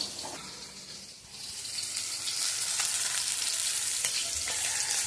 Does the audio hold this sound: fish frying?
yes